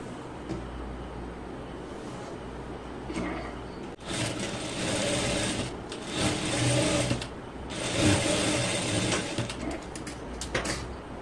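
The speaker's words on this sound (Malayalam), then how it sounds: "ഇനി ഇതിന്റെ മുകളിൽ സ്റ്റിച്ച് ചെയ്യാം" Sewing machine stitching along a marked line on fabric, running in several bursts of rapid mechanical whirring separated by short pauses, close and clear.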